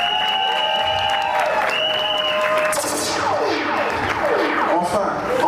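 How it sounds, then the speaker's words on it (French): Applause and cheering from wedding guests at a traditional customary marriage celebration, with loud clapping, shouts and high ululating cries rising and falling throughout, close and continuous. "Sous vos acclamations, s'il vous plaît."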